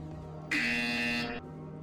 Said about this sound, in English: You will hear a buzzer. When you hear the buzzer, turn around and face the server farm behind you.